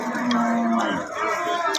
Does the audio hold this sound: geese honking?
no